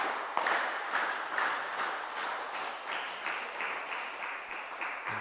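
A table tennis crowd at a European cup match claps together in a steady, even rhythm, fairly quiet and somewhat distant, keeping up a continuous clap-along for several seconds.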